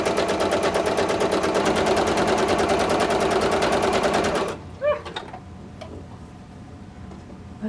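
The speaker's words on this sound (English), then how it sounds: "I am going to just sew right along the very edge of my ruffle." A sewing machine runs a fast, even stitch along the edge of a fabric ruffle on its longest stitch length for about four seconds, then stops, leaving faint handling clicks and a soft shuffle.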